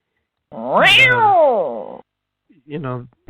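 A cat meows loudly nearby, a long drawn-out wail followed after a pause by a shorter second meow, with no other sound around it.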